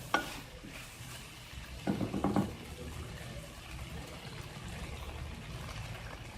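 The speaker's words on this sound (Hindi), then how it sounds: "तो अब हम इसके अंदर नूडल्स डाल देंगे" Noodles being tossed and stirred into chicken chow mein in a pan, a soft steady sizzle with a brief cluster of scraping, clattering stirs near the start, quiet and close.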